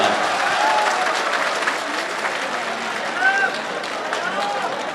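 Audience at a mushaira poetry gathering claps, a steady, moderately loud wash of applause mixed with crowd murmur and a voice over a sound system.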